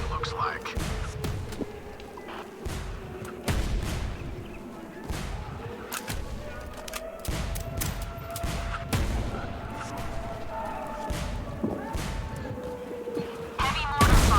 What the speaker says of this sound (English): Heavy mortar fire.